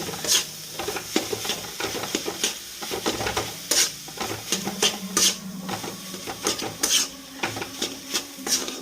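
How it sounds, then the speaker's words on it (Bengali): Sandesh is stirred into a jaggery khir filling in a pan, with a quick run of spatula scrapes and knocks against the metal over a low sizzle, close and steady. "এবার আমি ওই সন্দেশটা এর মধ্যে দিয়ে দেবো দিয়ে আমি ভালো করে একসাথে মিশিয়ে নেব"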